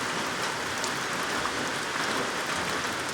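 Steady rain falls outside onto a garden with tomato plants near a cloth teepee, a dense, even hiss of drops hitting surfaces with no pauses or voices.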